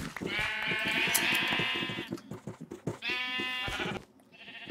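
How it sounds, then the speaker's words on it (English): Video game sheep being sheared, with two clear bursts of repeated bleating separated by softer clicks and shuffling, then a quieter tail where one more faint bleat begins. "let's do our shearing on these wool types again"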